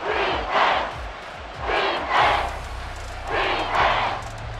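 Stadium crowd noise in the NFL 24 video game during a Jets vs Panthers matchup swells in repeated roaring waves, with a commentator talking underneath.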